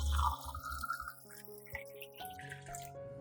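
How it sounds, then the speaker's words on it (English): Water runs from a tap or is poured into a clean glass cup, splashing and gurgling with small drips. The sound is close and moderate in level and shifts in tone as the cup fills, with no talking. "Pour in water"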